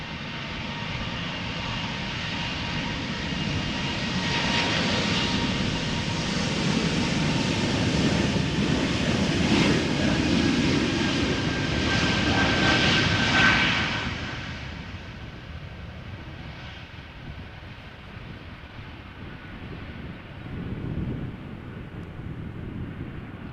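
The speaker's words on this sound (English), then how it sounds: "Airbus A220 from Air Baltic going to Vilnius, taking off." An Air Baltic Airbus A220 jet takes off at Amsterdam Schiphol, a sustained engine roar that holds steady, then fades and drops away toward the end, with no voices.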